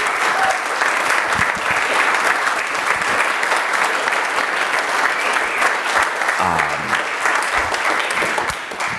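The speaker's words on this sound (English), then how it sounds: "can we just give Mikki Morrissette a round of applause?" A large audience applauds in a steady, dense wash of clapping that holds loud and continuous throughout.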